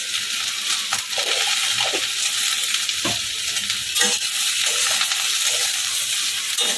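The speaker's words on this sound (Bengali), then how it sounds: "পটলগুলোকে একটুখানি মজিয়ে দেবো নাড়তে নাড়তে" Pointed gourd frying in a pan with turmeric and salt gives a steady, dense sizzle, with a spatula stirring and scraping through it in occasional knocks and scrapes, close and continuous.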